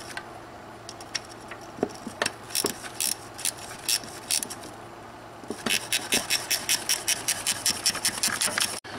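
A GearWrench ratcheting wrench works on the oil filter housing of a BMW N55 engine. Scattered metallic clicks and scrapes give way to a steady run of fast, close ratchet clicks.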